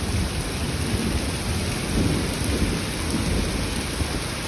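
Heavy rain pours steadily outside a home in the Saudi Arabian desert, a dense unbroken roar of falling water with deep rumbling thunder mixed in. No voices are heard.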